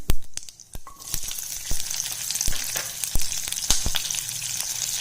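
Onions sautéing in hot oil with mustard seeds and turmeric for a drumstick curry give a steady close sizzle, with sharp clicks and pops from the spattering seeds and utensil taps throughout.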